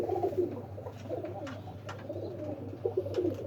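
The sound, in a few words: pigeons cooing in a loft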